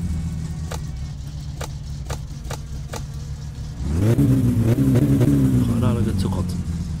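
A car engine in the driving game My Summer Car keeps turning over with a steady low cranking rhythm, then catches and revs up loud with a rising, droning tone up close.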